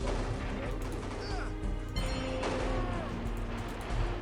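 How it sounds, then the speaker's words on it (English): Cannons fire in the strategy game Outlaws 5: Billy the Kid, a few dull booms set into a dense, steady mix of battle noise and background music, with no clear standout shot. "Oh, there's more cannons."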